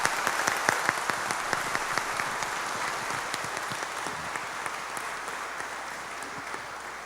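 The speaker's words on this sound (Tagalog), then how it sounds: "pasalubungan tayo pong masikan a palakpak" A church congregation claps warmly at a priestly ordination, sustained applause that starts strong and slowly tapers, filling the large space with dense, overlapping hand claps.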